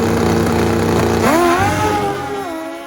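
A drag bike with a 4-valve cylinder head engine makes a loud, close straight-line run, its tone rising sharply in pitch as it accelerates hard, then holding high before fading slightly toward the end.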